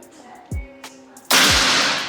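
A budget PCP air rifle fires a single sharp, loud crack at close range, with a few faint clicks and small knocks of handling before it.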